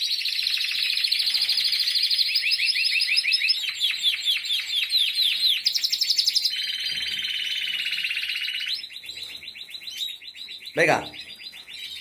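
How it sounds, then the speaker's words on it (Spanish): Rapid, high-pitched chirping of pigeon squabs carries on nearly nonstop, close by. A single short spoken word breaks in near the end. "Son cuatro pichones que tiene allí a la derecha."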